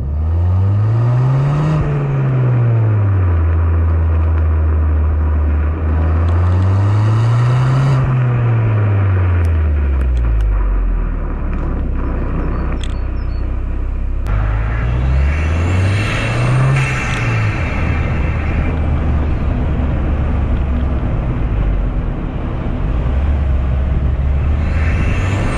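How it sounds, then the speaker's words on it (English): A 2017 Ford Fiesta ST-3 engine revs loudly up and down repeatedly, with a throaty exhaust roar and intake whoosh rising and falling in waves. "the induction noises, they sound epic. The exhaust sounds epic."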